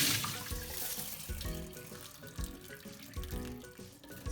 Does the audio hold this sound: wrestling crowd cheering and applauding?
no